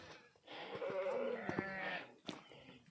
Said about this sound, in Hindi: ये ऊन वाले भेड़ है